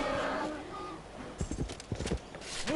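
Horse hooves clip-clop in the strategy video game Civilization V: Gods and Kings, a short run of quick, close hoofbeats over a faint background bed.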